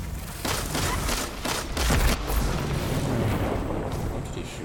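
Rapid gunfire in the video game Destiny 2, heard as a dense, continuous burst of loud shots and booming impacts that lasts the whole moment with little pause.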